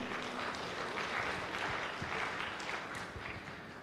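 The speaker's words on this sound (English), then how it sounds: "Please give big round of applause" Audience clapping at the opening ceremony of the 2nd PlateauPlus International Workshop, a steady, dense wash of applause filling the room throughout and easing slightly toward the end.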